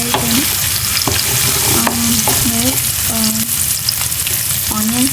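Onions fry in a pan for a spinach and potato curry, giving a constant loud sizzle with a few scraping stirs and some high squeaky tones over it.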